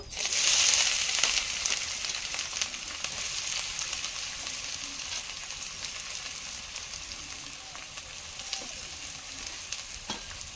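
Onions dropped into hot oil with bay leaf and cloves, hissing loudly at first and then settling into a steady, bright sizzle with light stirring scrapes, close up and with no voices.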